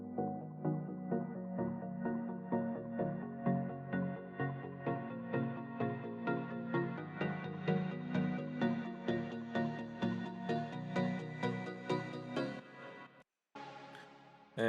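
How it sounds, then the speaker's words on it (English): Reversed bell-pluck synth tones run through an arpeggiator over chords in an electronic song, a steady pulsing rhythm of swelling notes that continues for about twelve seconds before cutting to a brief break and a sudden return. "I just used the bell pluck that I didn't use before."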